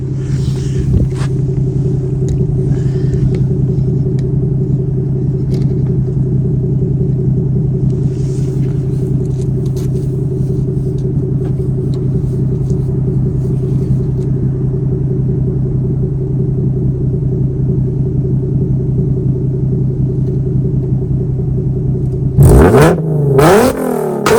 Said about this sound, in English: I did a muffler delete from right there and right there. Make it a little bit louder